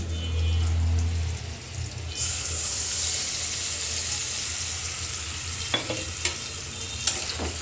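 Ground turmeric, chili and coriander spice mix hits a hot frying pan with tomatoes and bursts into loud, steady sizzling that continues to the end, with a few sharp crackles and spatters near the close.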